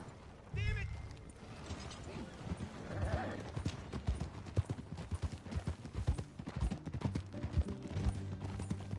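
Rhythmic clip-clop of horse hooves at a steady trot in the video game Red Dead Redemption 2, with a whinny early on and a creaking, mechanical background throughout.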